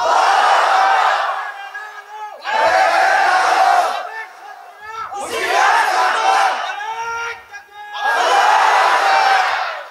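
A large crowd at a packed Islamic religious gathering in an open field roars takbir, four loud chanted bursts in call-and-response rhythm with brief gaps, voices massed and echoing.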